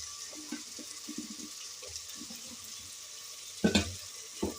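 Brinjal and green chili pieces hit a hot pan for pulao, giving a faint steady sizzle with soft clatter and a louder burst of sputtering toward the end.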